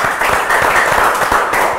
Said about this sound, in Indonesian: Tepuk tangan dong Bang Zulfan.